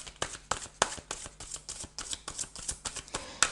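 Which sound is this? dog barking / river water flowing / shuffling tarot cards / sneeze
shuffling tarot cards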